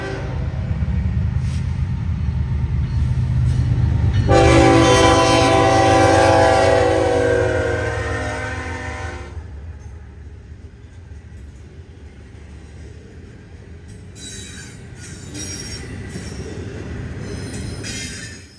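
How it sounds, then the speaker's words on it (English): Norfolk Southern eastbound 258, a daily intermodal freight train with a Union Pacific locomotive, rumbles past near Pittsburgh, Pennsylvania; a loud sustained horn blast sounds over the rolling wheels before the train noise fades and steadies. "down from Pittsburgh came NS eastbound 258, sporting a foreign Union Pacific visitor"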